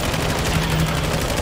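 Call of Duty Warzone gunfire, a quick run of automatic shots rattling loudly and close over a dense wash of game noise.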